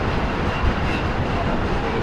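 A Mohananda passenger train runs with a dense, continuous rumble and rattle of carriages, loud and steady for two seconds with no talk.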